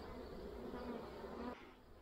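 Honey bees buzz at an open late-summer hive during a frame inspection, a faint, dense, even hum that cuts off sharply near the end, with no talking.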